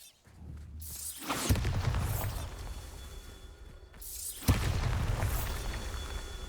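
A Bombarda spell explodes in Hogwarts Legacy, twice: each a sudden loud boom with a rushing whoosh and shattering debris that rumbles on, the second blast hitting about three seconds after the first.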